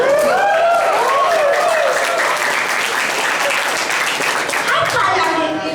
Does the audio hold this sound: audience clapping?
yes